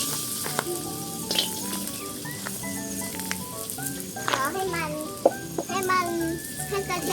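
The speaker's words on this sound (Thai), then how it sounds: "แล้วก็เราก็จะใส่กระเทียมนี่ลงไปเลยนะคะกระเทียมใส่ลงไปเลยนะคะ" Steady hot sizzle of garlic frying in a hot wok, with clinks of a utensil and some bright overlapping tones above the crackle.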